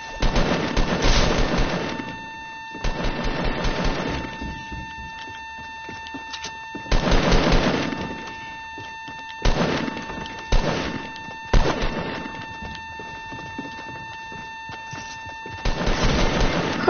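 Video game gunfire hitting the player in a bunker arrives as repeated loud broadband bursts and volleys, separated by quieter stretches with a steady electronic hum and tones underneath.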